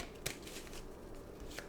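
A deck of tarot cards is shuffled quietly, a soft continuous riffling with a couple of brief slaps, faint and close with no talking.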